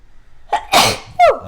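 Two loud, close sneezes in quick succession, each preceded by a short sharp inhale, from a player with bad allergies at a board game table.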